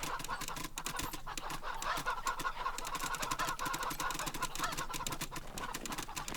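Cyborg chickens cluck in the Wasteland 3 video game, a steady stream of clucking and chatter over a dense, busy game soundscape that fills the whole stretch.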